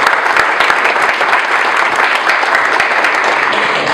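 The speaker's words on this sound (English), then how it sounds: "So another round of applause for Nicole." Steady, dense applause from a restaurant audience at a bikeway summit honoring a departing colleague, sustained at even loudness throughout with no voices standing out.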